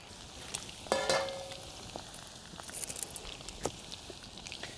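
Spice bag ingredients fry in hot oil in a small pan, giving a soft, faint sizzle with light crackles and a couple of sharper bursts near the start, fairly quiet and close.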